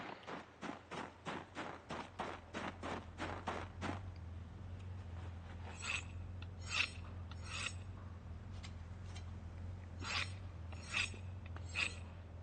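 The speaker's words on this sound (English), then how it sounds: "let's go sharpen our sword" A sword is sharpened in the video game Project Zomboid, with a run of about a dozen even, rhythmic rasping strokes followed by scattered softer scrapes and metallic clinks.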